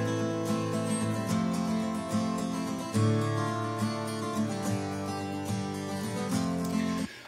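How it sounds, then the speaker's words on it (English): Stereo acoustic guitar recorded with left and right microphones, one side slightly delayed for width, playing steady strummed chords that ring continuously and close up with no voices. "there's another acoustic guitar which I made in stereo"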